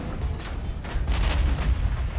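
Naval gunfire in the warship game Ultimate Admiral: Dreadnoughts, heavy battleship guns booming in a dense, continuous rumble of overlapping low blasts, with stronger reports rising near the end.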